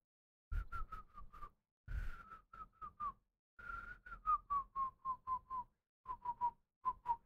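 Someone whistles indoors in a run of short, clear, tuneful notes, grouped in phrases with brief pauses between them, close and alone.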